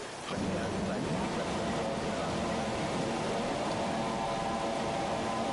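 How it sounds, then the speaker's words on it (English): Steady, dense roar of heavy rain pouring down without a break, heard from inside a car, with a low rumble underneath throughout. "Gosh, it's raining."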